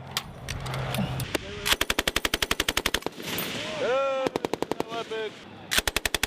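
US Marines firing M2 Browning and M240 machine guns outdoors, loud bursts of rapid, evenly spaced shots in several strings with pauses between, with voices talking in the background.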